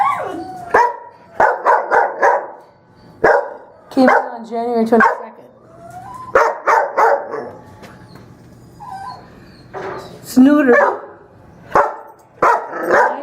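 Dogs at a county humane society shelter bark in repeated sharp bursts, loud and close, with yips and whimpers mixed in, while a person talks between and over the barking.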